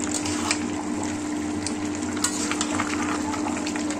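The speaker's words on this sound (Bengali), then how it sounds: "এবার আমি জাস্ট একটু নাড়িয়ে দেবো।" Potatoes dusted with Kashmiri chilli fry in a crowded pan, giving a dense, continuous sizzle with faint scraping as they are stirred; no voices.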